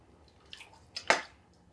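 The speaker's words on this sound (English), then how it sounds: "it's so tender that I can just sort of pull it apart on the side of the pot." Tender stewed meat is pulled apart against the side of a pot on a wood stove. A few soft, wet squishes come close together, the last one louder, over near silence.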